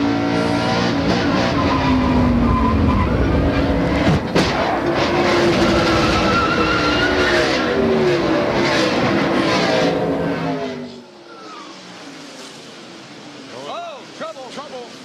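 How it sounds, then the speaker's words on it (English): NASCAR race cars crash and spin on track, loud roaring engines and tire skids running continuously, with an announcer talking over it before the noise drops away near the end. "Here comes Bobby Labonte with a hard hit on Skinner"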